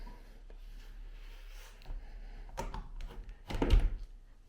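A glass shower door in a small master bathroom of a shipping container home is slid shut, with light rattling and a firm thunk as it closes, near and alone.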